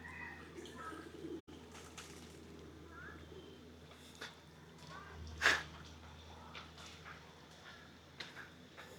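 Pigeons coo faintly in the distance at a temple grounds in Chiang Mai, Thailand, under a steady outdoor murmur, with one brief sharper call standing out midway.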